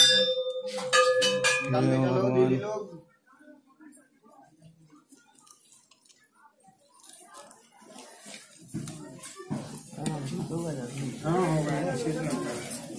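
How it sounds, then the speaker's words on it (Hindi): Bright metallic clangs of a temple bell ring out at the start with lingering overtones, followed by quiet, then people talking, at Ranchod Dham temple. "ये घंटी है ऐसा बजा दिया"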